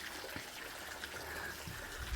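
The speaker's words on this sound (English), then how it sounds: "We get these trickles of water coming down." Small trickles of water run down into an outdoor acorn leaching pool on a homestead, a faint continuous dribbling wash with no voices.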